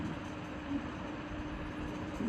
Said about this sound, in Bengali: ট্রেন ছুটে চলেছে প্রায় 300 কিলোমিটার